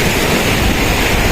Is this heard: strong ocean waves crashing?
yes